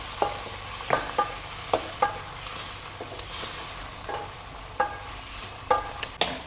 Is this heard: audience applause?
no